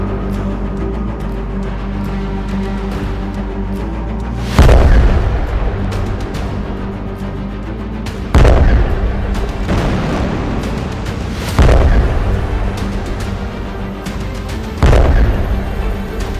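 Bomb blasts from Israeli strikes on Gaza boom out four times at spaced intervals, each a sharp heavy burst that rolls off over a constant loud rumbling background.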